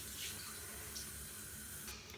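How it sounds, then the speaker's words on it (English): Water trickling weakly from a shower head or tap onto hair, a steady soft hiss with a faint sputter near the end. "You can see that the water's just kind of trickling out."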